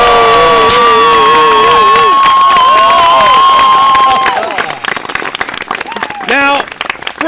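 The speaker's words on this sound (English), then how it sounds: "Two whips in one hand typically results in a crowd screaming and applauding wildly." A wedding crowd screams and applauds at a whip show, loud sustained cheering and shrieks over clapping that eases off after a few seconds into scattered claps and shouts.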